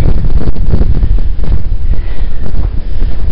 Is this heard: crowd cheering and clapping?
no